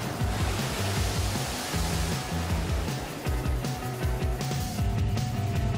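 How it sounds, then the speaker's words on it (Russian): Waves breaking near the shore, a broad, continuous roar of surf with steady wash, heard together with a low repeating musical pattern underneath. "Особенно у берега, где волны разбиваются."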